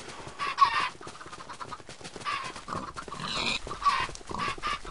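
Minecraft chickens cluck as they burn in the video game, with repeated clucks and squawks over a steady background hum. No speech.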